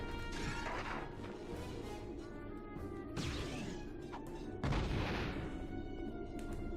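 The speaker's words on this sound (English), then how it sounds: "That was an awesome explosion noise" Explosions go off in Crash Team Racing as crates are smashed during a race, with three sharp crashing bursts spread across a steady bed of game music and engine drone.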